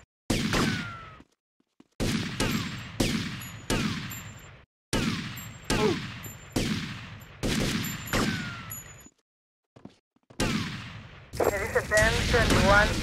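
Gunfire in the video game GTA Vice City: repeated loud bursts of shots in quick succession with short gaps, ending in a dense rattling volley.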